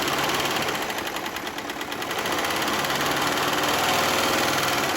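Domestic sewing machine running steadily as it stitches fabric, a fast continuous mechanical whir with rapid needle clatter, close and loud throughout and unbroken by speech.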